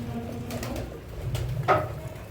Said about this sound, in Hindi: अब ये जोड़ों वाला कबूतर है दोस्तों